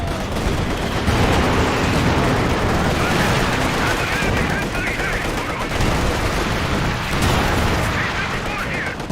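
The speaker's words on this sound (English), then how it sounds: "It's going to be an ugly grenade." Grenade blast amid a dense Company of Heroes 2 battle, continuous loud gunfire, machine-gun bursts and booming explosions packed together, with a voice talking over the din.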